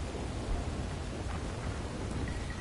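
A thunderstorm in the PS4 game Red Dead Redemption 2 brings soft, steady rainfall with a low distant rumble of thunder underneath, fairly quiet throughout.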